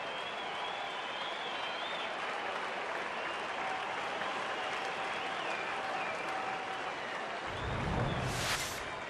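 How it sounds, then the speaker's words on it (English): A baseball crowd at a Marlins game in Colorado applauds pitcher Aaron Cook, a steady broad wash of clapping and cheering that swells briefly louder near the end. "So Aaron Cook gets a big round of applause, well deserved."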